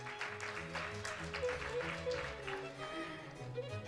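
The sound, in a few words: audience applause welcoming a speaker to the stage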